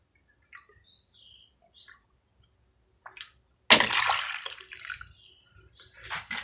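Water from a bamboo boar-scare device tips and pours into the soil of a small greenhouse planter. After a few faint drips, a sudden close splash and gush fade into trickling and dripping, with no talk.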